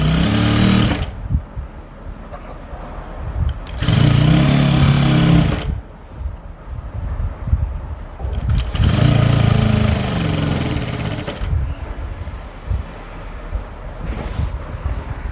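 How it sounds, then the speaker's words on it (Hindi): A sewing machine stitches an Afghani salwar, running in loud bursts of a few seconds each with brief pauses between them, close to the listener and with no talking. "ये पीछे का आसन सिल दिया,"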